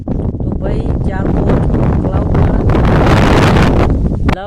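Strong gusts batter a microphone outdoors near a wheat field, a loud, continuous roaring rumble that fills the whole stretch, with brief voice fragments near the start and end.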